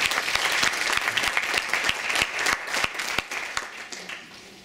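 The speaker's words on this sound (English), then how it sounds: "Let's give her a round of applause as she comes up." An audience applauds as a speaker walks up at a community arts event, with sharp individual claps over a steady wash of clapping that gradually thins and fades toward the end.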